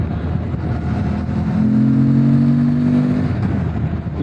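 A 2025 Morbidelli T1002VX adventure motorcycle's engine runs steadily and loudly nearby, with a rising rev tone swelling in the middle before settling back to a steady drone.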